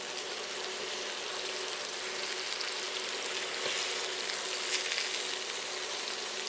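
Swordfish sizzling on a grill while being flipped: a steady, bright hiss of frying crackle throughout, with no talk.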